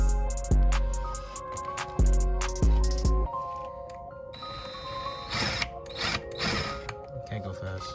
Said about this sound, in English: pulled the back of the drill, makes it more sturdy.